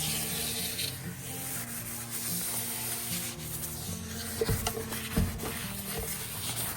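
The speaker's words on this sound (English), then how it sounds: "I'm gonna just wipe it down," A cloth rubs dust off a hand-carved cypress wood sink after sanding with 220 grit, giving a soft, continuous close-up scrubbing with a couple of brief louder bumps near the end.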